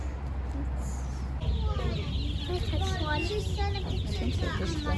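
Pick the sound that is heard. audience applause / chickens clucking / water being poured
chickens clucking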